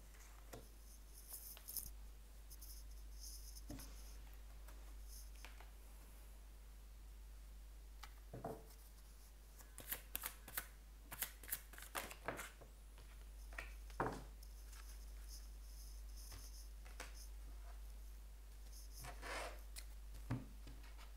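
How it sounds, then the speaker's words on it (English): Soft, intermittent riffling and shuffling of cards, with scattered sharp flicks and taps over a steady low hum. "I'm going to start shuffling the cards for you"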